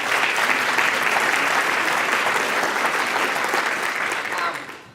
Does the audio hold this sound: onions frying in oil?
no